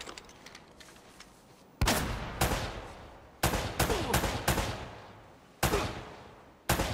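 Gunfire from the Uncharted: Drake's Fortune video game, with several sharp, loud shots and bursts rising out of a quieter background, spaced irregularly over the stretch.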